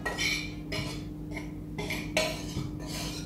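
Fry bread dough ingredients are stirred in a bowl in repeated scraping, clinking strokes, about six of them in a steady rhythm. The sound is close and moderately loud, with a low hum underneath.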